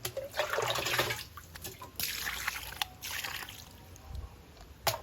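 Water poured from a container for washing hands and feet outdoors in a rustic village setting, a soft uneven splashing and trickling that comes in a few faint bursts.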